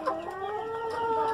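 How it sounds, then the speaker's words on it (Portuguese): A free-range rooster and hens cluck nearby in a steady run of throaty, overlapping calls, with no voices present. "Aqui eu tenho esse galo caipirão. Coloquei como incentivo aí pra elas."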